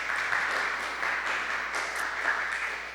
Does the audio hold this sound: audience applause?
yes